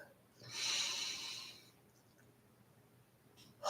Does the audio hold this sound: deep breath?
yes